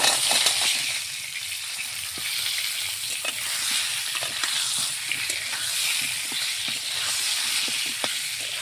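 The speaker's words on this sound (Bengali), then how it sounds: "গোটা গোটা পটল আমি চিড়ে রেখেছি একটু একটু করে সর্ষে পটল বানানোর জন্য তেলে দিয়ে দেবো" Whole slit pointed gourds (potol) sizzle steadily in hot oil for mustard potol, a dense close crackle with scattered pops and stirring scrapes throughout, no voices.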